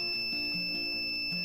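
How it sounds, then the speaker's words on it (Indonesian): Buzzer on an IC555 timer circuit powered at 3.7 volts, switched on and giving a steady, thin, high-pitched electronic whine that holds without pause, with faint low background hum beneath. "Bila saya tekan saklar on, maka buzzer akan bunyi."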